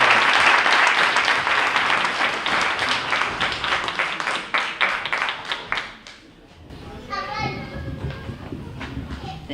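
An audience at a Ramadan community program applauds to welcome Congresswoman Esty, a loud burst of clapping that fades after about six seconds, leaving quieter room sounds with children's voices and chatter.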